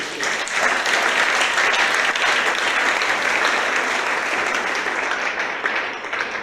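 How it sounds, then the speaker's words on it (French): A large crowd at a community general assembly in Bandundu applauds the community's lawyers, steady dense clapping sustained throughout, loud and close with no talk. "Je demanderai à ces gens-là de les applaudir"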